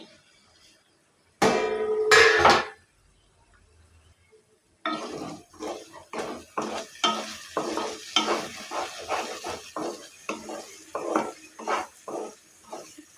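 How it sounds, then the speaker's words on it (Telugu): A spoon scrapes and stirs a simmering prawn curry in a pan after the lid comes off. A brief lid clatter comes first, then a rhythmic scraping over a soft sizzle. "మూత తీసుకొని ఒకసారి కలుపుకోవాలి"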